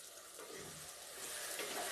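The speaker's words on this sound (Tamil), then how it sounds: "நல்லா வதக்கி விடுங்க." Onions and tomatoes sauté in a pan of oil for a fenugreek curry, giving a soft, continuous sizzle with faint stirring, quiet and close, without any voices.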